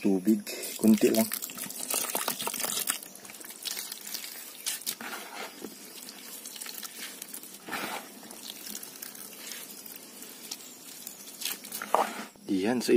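Water is poured into coconut milk while cooking ginataang pusit, squid in coconut milk, giving a steady, splashy trickle that runs through most of the stretch, with a voice speaking at times over it.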